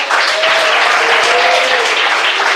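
Loud, close clapping from a church congregation, dense and continuous, with a few voices calling out faintly underneath.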